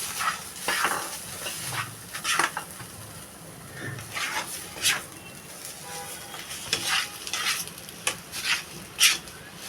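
A mash of ridge gourd peel with a little raw mustard oil being mixed in a kadai off the heat, with repeated scraping and stirring clinks of a spoon against the pan and a soft background hiss, no talking.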